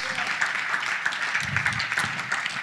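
A crowd at a church conference claps hands in a steady patter of many overlapping claps, moderately loud and continuous, with no clear speech.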